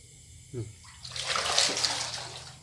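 Water pours into a frog breeding tank, a splashing rush that swells after a brief quiet start and runs steadily to the end, with a short murmur of voice early on.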